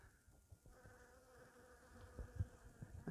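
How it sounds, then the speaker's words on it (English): Local honeybees buzz around a flowering cherry tree outdoors, a faint, steady hum with occasional closer passes, set against quiet ambient background with no voices. "There's quite a lot of the local honeybees are in."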